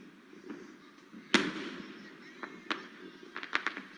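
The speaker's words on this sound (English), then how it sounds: "see how they're doing fireworks" Fireworks from a played video pop in scattered, muffled bangs and crackles, one sharper burst standing out among softer distant reports, with no talk over them.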